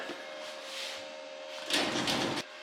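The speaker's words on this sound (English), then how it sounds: "Let me shut this door." A Jeep door swings and shuts with a short rattling thud near the end, over a steady background hum.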